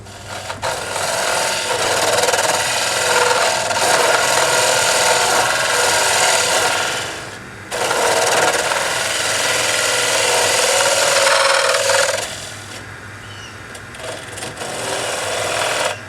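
A snake hollower's arm-mounted cutter scrapes and rasps steadily into wood while hollowing, a loud continuous grinding that breaks off briefly twice before resuming.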